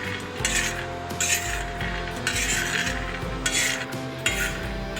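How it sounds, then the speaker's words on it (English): Groundnuts roasting in a pan over a low flame are stirred with a utensil, giving repeated scraping, rattling passes of nuts against metal in bursts, close and clear with no talk. "Meanwhile, let's roast the groundnuts. Roast it in low flame"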